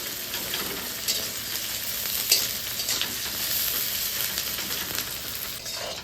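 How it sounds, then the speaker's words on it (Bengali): Onions frying in a pan, sizzling steadily and loudly throughout, with scrapes and stirring strokes scattered across the steady hiss. "পেঁয়াজ কিন্তু ভালোভাবে একদম ভেজে নিব।"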